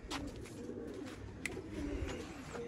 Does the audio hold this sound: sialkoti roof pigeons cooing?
yes